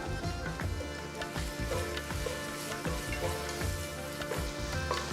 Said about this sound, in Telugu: ఇప్పుడు నేను దీంట్లో టొమాటో ఒకే ఒక టొమాటో వేస్తున్నాను జస్ట్ ఒక మీడియం సైజ్ టొమాటో వేస్తున్నాను